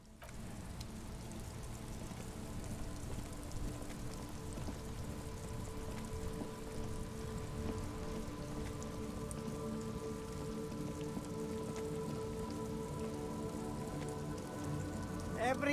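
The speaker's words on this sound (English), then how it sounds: "Stuck in the rain in a traffic jam, man." Rain falls steadily in the Disco June video game during a traffic jam, a continuous even patter on surfaces with a low hum beneath, quiet and unbroken.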